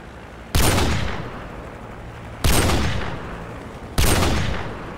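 Three heavy rifle shots in Call of Duty 4: Modern Warfare, each a loud sharp crack with a long rolling echo tail, spaced about two seconds apart over a quiet windy background.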